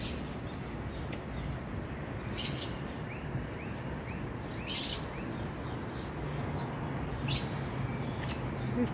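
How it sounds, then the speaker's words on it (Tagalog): Birds chirp and call outdoors on a sunny day at a residential compound in Baguio, their short calls rising every few seconds over a steady, faint background hiss of wind or distant traffic. "The sound of birds."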